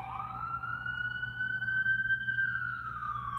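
A single wailing emergency siren sweeps slowly up and down in pitch, heard at moderate distance against a low steady hum.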